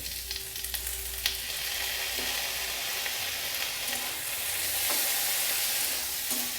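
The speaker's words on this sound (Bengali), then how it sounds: "এবারে ভেজানো মুগ ডালটা দিয়ে দেব।" Soaked raw mung dal sizzles steadily in a hot pan, a close, continuous frying hiss with occasional light stirring clicks and no voices.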